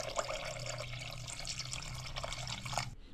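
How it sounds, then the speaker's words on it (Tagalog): Water poured into a pot of beef bulalo, with bone-in beef, carrots, whole peppercorns and bay leaves, before pressure cooking. It is a steady, close splashing and gurgling stream for about three seconds that stops sharply at the end. "At huwag natin kakalimutan maglagay ng tubig."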